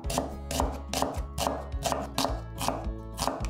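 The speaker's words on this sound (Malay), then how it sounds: "iris nipis sebiji bawang besar" Kitchen knife slicing a large onion thinly for a Malay festive rice dish, a steady run of crisp, evenly spaced chops on a board, close and fairly loud with no talking.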